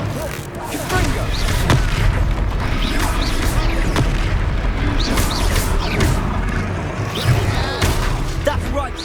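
Explosive blasts and crashing impacts from the Confringo spell during a Hogwarts Legacy battle, dense and loud throughout, layered with repeated sharp bursts under shouted combat dialogue.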